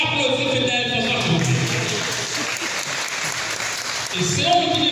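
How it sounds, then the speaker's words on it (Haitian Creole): An audience at a film screening applauds in a sustained, even patter of many hands, fairly close, with voices and some speech mixed in over the clapping. "On applaudit peut-être pour ça."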